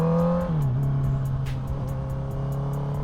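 Honda CBR650R motorcycle engine heard while riding on the open road, a loud steady drone that drops in pitch as a gear changes early on, then holds an even hum with faint ticking and wind noise throughout.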